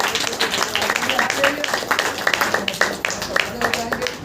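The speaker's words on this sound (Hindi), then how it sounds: "यीशु मसीह की जोर से ताली बजाकर के" A church congregation at a Saturday power meeting claps loudly in dense, continuous applause, with voices and shouts mixed throughout.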